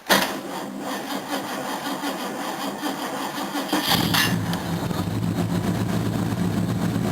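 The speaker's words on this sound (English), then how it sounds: "I figured I better do the first cold start with a new battery" A Toyota Camry engine cold-starting on a new battery in mild weather: a short cranking whir, then the engine catches near four seconds and settles into a steady, fairly loud idle hum with no talking.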